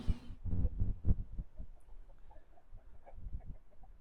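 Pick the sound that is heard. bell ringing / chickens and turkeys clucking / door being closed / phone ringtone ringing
chickens and turkeys clucking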